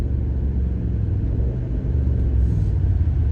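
A 2023 BMW M8 Competition engine rumbles deep and loud from inside the car, a heavy, steady roar under acceleration with no clear break for a gear change.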